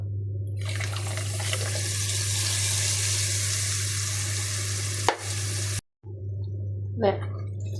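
Ground coconut paste is poured into a simmering fish curry with mango in a pan and stirred, giving a steady bubbling sizzle with wet scraping and splashing, while a voice talks over it.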